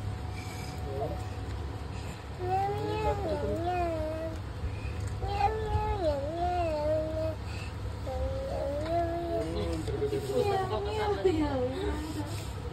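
A cat meows several times in drawn-out, wavering cries, fairly close, with a low steady hum in the background.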